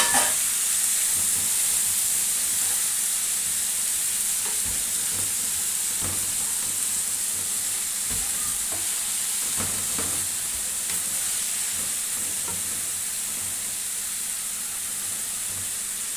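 Chicken livers, first soaked in lemon and vinegar, fry in a pan with a continuous close hiss and sizzle, with occasional faint scrapes and knocks underneath and no talking.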